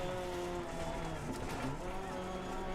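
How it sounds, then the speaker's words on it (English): A rally car's engine bogs down and strains in Dirt Rally 2.0 on a Welsh stage, its rear wheels worn down to bare rims. The labored drone is loud and continuous, with wavering harmonic tones and a low rumble throughout. "Oh dear, we're bogging down. The engine's giving up on us."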